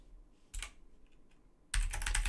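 Quick bursts of typing on a computer keyboard while writing Python Tkinter GUI code, a short clatter followed by a louder, denser run of keystrokes, close and without speech.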